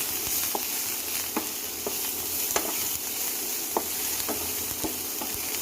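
Chopped green chilli, ginger, onion and capsicum frying in a pan for mushroom chilli, a steady close sizzle broken by regular scraping taps of a spatula stirring, with no talk.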